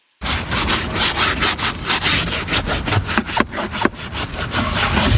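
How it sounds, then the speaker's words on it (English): Somebody scrubs a car seat by hand with household cleaning products, making a rapid, rhythmic rasping of bristles or cloth on fabric. The strokes repeat close up and fairly loud over several seconds, with no voices. "your girl really was scrubbing that chair"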